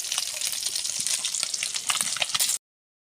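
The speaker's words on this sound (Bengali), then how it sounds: "মাছের তেলটা ভেজে নেব, ইলিশ মাছেরই তেল।" Hilsa fish fat frying in a pan over a wood fire, a steady close crackling sizzle with dense spitting pops throughout before cutting off abruptly.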